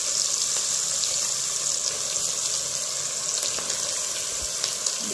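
Mutton pieces fried in spiced masala for a mutton curry, a steady close hiss of sizzling oil running throughout with occasional faint clicks of stirring, and no voices.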